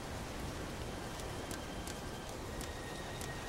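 Steady, dense rain falls on a construction site in the video game Heavy Rain, an even hiss with scattered brighter drop ticks throughout, no voices.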